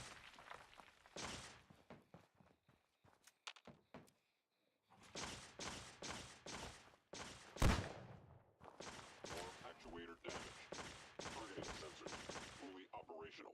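A single loud, sharp shot from an anti-materiel rifle in Fallout 4 rings out partway through, set among other clattering game sounds and bursts of background noise.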